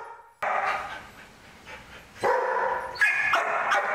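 Dogs bark at an animal shelter. Loud, close barks come in short bursts separated by quieter yips and whimpers, with no talking.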